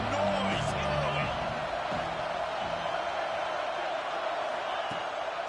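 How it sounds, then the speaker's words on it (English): Steady, dense roar of a stadium crowd at a college football game, loud and continuous throughout, with a commentator's voice running over it and occasional sharper shouts rising from the mass. "This crowd bringing the energy and noise early."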